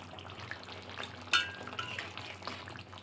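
Bengali fish curry cooks quietly in a pan as garam masala powder is stirred in: faint bubbling sizzle with soft spoon scrapes and one brief sharper clink.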